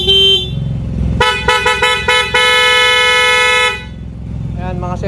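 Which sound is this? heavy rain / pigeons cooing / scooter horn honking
scooter horn honking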